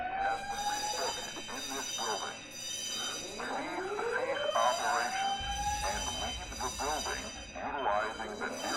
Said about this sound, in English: Hey, Bonnie, you want to come listen to an alarm with me?